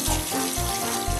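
Tap water runs steadily into a sink while a child washes hands, with a low repeated thumping and faint voices in the background.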